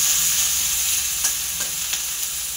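Onion paste fries in a wok while being stirred, a steady close sizzle broken by a few sharp scraping clicks of the spoon against the pan, no talking.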